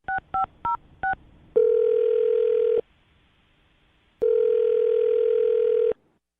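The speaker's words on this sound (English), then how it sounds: "I'm dialing her phone number right now, Jonas." A telephone dialing out for a radio call-in: four quick touch-tone beeps, then two long, loud ringback tones separated by a silent pause, with no one speaking.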